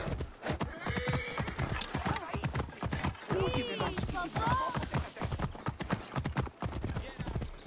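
Horses in the Ancient Egypt world of Assassin's Creed Origins, with steady galloping hoof clip-clop and several clear whinnies midway, under and alongside speech.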